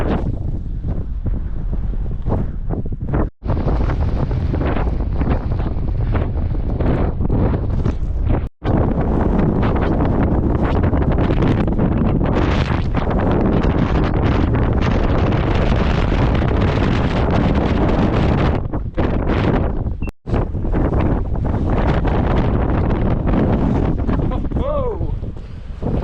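Strong, relentless wind roars across the microphone on a snowy mountain summit during a snowstorm, loud and continuous for the whole stretch with only a few brief drops.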